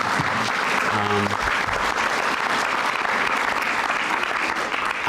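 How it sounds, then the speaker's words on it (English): Audience applause at a Saint Paul EMS Academy graduation ceremony in winter 2013: dense, steady clapping from a crowd, filling the whole stretch without pause. "someone just clapped, so that's totally appropriate"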